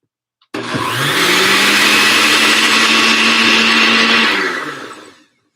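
A blender whirs loudly and steadily for about four seconds, starting abruptly and winding down at the end, with no talking.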